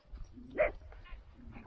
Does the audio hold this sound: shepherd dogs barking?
yes